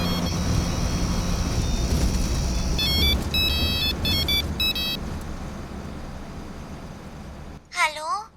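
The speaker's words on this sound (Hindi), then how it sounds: "भाई, उसी नंबर से फिर फोन आ रहा है।" A phone ringtone plays in repeated electronic beeping bursts over a noisy background, followed by a brief rising whistle-like tone near the end.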